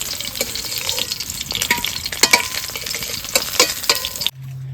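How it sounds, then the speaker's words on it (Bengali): Hilsa fish heads frying in oil, a close, continuous sizzle with crackles and stirring clatter throughout, ending abruptly in a low hum. "মাথা তিন পিস আমার ভাজা হয়ে গেছে নামিয়ে নেবো"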